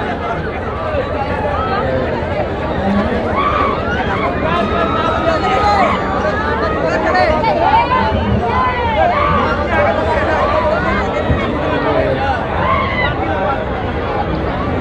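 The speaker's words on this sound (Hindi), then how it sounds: "देखिए झूला झूलने के लिए भीड़ भी कितना है" Dense crowd at the Andhrathadhi yagya fair queuing by a break dance swing ride, a steady loud hubbub of many overlapping voices and bustle with no pauses.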